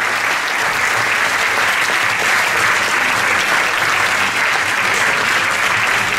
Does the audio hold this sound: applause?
yes